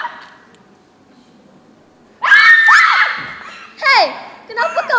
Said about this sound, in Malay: Hei, kenapa kau menjerit ni